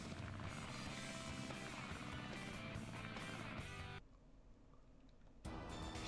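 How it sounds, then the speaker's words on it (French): Tails' plane flies in Sonic Adventure DX, a dense, steady engine drone that dips abruptly quieter for about a second and a half before returning at full level. "Je kifferais tellement avoir son avion au Tails là."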